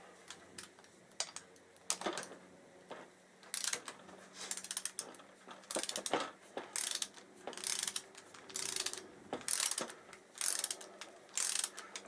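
A socket spanner works a spark plug loose on a Honda ST1100A motorcycle, making repeated close, loud ratchet clicks in bursts with short pauses between them.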